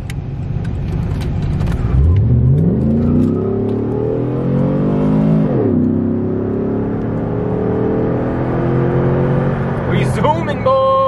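A straight-piped car with its check engine light on revs up and accelerates, the loud raw engine note climbing in pitch, dropping briefly, then rising again close by, with a brief shout near the end.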